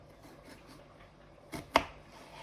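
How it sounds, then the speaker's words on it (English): A knife slices through kiwi fruit in a quiet kitchen, giving two short, close cuts near the end after a stretch of near silence. "we're going to slice the kiwi, watching those fingers"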